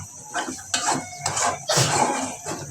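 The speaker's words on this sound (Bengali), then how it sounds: "মশলাটাকে ভালোভাবে কষাই নিচ্ছি" Ground turmeric and chilli powder are fried in a pan and stirred with a utensil for a potato and meat curry, giving irregular scraping and clinking bursts with short pauses in between.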